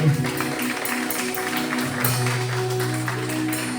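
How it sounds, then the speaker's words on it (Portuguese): A church congregation at a Baptist Sunday service applauds together, a steady wash of clapping sustained for several seconds, with musical tones and voices blending underneath. "Se você crê, dê um forte aplauso ao Senhor."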